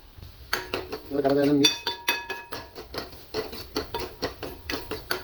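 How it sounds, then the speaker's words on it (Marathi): Potatoes and onions are stirred in a pan with magic masala, a quick run of scraping clinks and taps of a utensil against the pan, close and rhythmic, with a voice speaking over it. "आता आपल्याला याला करायचं आहे मिक्स"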